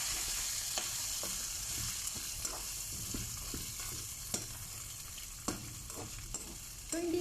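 Shredded chicken breast frying in a pan for chicken pastil, a constant sizzle broken by repeated scraping stirs and utensil knocks at an uneven pace, close by and without speech.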